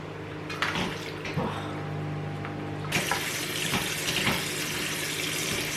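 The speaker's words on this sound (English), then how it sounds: "you just have to rinse them under water for 15 seconds" Noodles get rinsed under a running kitchen tap, a steady close rush of water that turns louder and brighter midway, with splashing as they are moved about.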